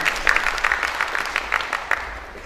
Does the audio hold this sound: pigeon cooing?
no